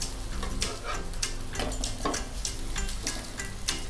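A vegetable pancake frying on an oiled griddle gives a steady, close sizzle with faint ticking and spatula scrapes throughout, no voices.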